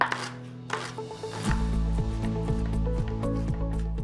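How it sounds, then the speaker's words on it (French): A knife chopping an onion into small pieces on a board: a quick, steady run of close, crisp taps that picks up after a brief pause and keeps an even rhythm. "L'oignon s'il te plaît. Et là pareil, tu les coupes en tout petits morceaux?"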